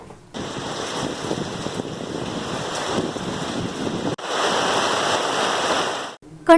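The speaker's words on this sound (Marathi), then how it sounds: "कणकवली तालुक्यातील ग्रामीण भागात सायंकाळी वादळी वाऱ्यासह पाऊस पडला" Evening storm in rural Kankavli, Konkan, with rain driven by strong wind, a dense continuous rushing roar that swells louder partway through and then cuts off abruptly near the end.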